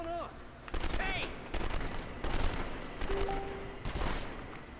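Gunfire from the PlayStation 2 video game 24: The Game comes in bursts of rapid shots, loud and close, mixed with game sound effects and a brief tone, while a voice talks over parts of it.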